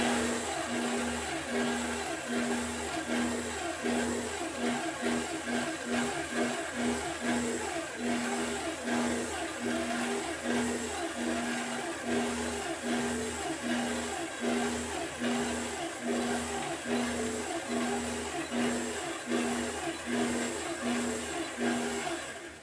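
A quilting machine stitches a quilt with a steady motor hum and a rapid, regular needle rhythm that continues evenly throughout, close and moderately loud, with no talk.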